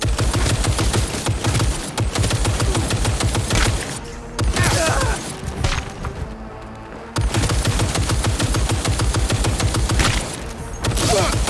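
Rapid automatic gunfire from the video game Cyberpunk 2077 hammers nearly without pause, loud and close, as dense machine-gun bursts are broken by brief lulls and a few heavy thuds.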